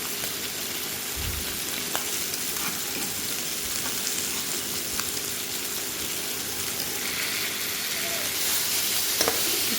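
Onions and ground spices fry steadily in a pan for a goat meat meal, a dense, even sizzle with no pauses, close and fairly loud.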